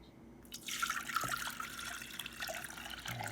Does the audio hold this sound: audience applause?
no